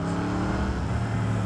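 A car engine hums steadily at a distance throughout, a continuous low road-vehicle drone with no talk over it, outdoors where a motorcycle was being washed.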